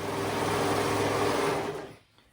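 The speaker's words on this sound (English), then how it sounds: "So I'm gonna go ahead and sew that up and we'll be done." A sewing machine stitches ruffles onto a child's dress with a steady close-up motor whir that runs continuously for about two seconds and then stops, with no voice.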